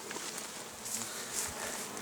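Hornets buzz continuously at low volume around a log beehive, a steady droning hum with faint background hiss.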